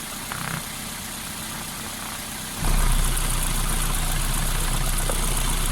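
A used car's engine idling with the engine oil cap off: a steady low hum that suddenly grows louder and rougher partway through, then holds an even, vibrating drone with no talk.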